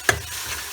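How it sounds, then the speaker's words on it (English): Tomatoes and garlic cooking over a high flame give a continuous close sizzle, opening with one short sharp scrape or stir. "it just needs a couple of minutes on a high flame just to cook the tomatoes through now"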